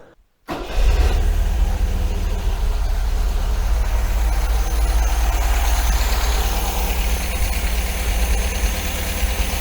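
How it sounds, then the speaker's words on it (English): An MGB's engine cranks and catches after a brief silence, then settles into a steady, loud idle with a low, even rumble that holds for several seconds with no one talking. "now let's start the engine"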